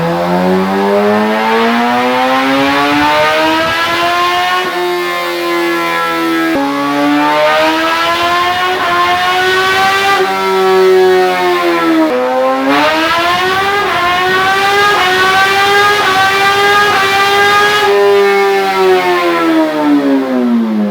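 A 2011 Suzuki GSX-R1000 running on E85 fuel revs hard and loud up close, its pitch climbing, dropping at each shift, then climbing again in repeated sweeps.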